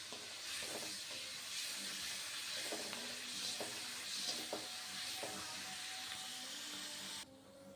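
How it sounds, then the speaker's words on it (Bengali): Cauliflower, potato and tengra fish cook in a pan with a faint, continuous hissing simmer and a few soft crackles and clicks, heard close up with no talking. "এখানে ফুলকপি আলু ট্যাংরা মাছ দিয়ে রান্না করছি।"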